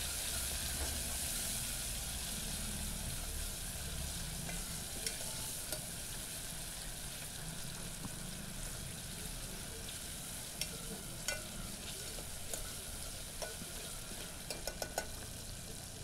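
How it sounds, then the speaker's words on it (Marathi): Finely chopped red tomato sautés in a hot oil tempering with garlic, giving a soft, continuous sizzle with occasional light spoon taps and stirring clicks, fairly quiet and close, with no voices. "तो देखील इथे मी फोडणीला टाकून छान परतून घेणार आहे."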